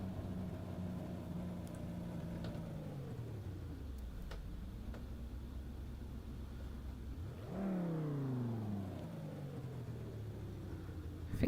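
BMW M3 E30 engine in a VR racing game at Brands Hatch Indy, steady idle that sags, then a sharp rev blip near the end with falling tone, loud and continuous with no talk.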